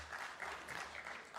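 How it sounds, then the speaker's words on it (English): Sparse applause from a live audience at a political talk, a thin scattering of claps sustained at moderate distance for a brief stretch, with no voices over it. "I'm not surprised that there is just a smattering of applause"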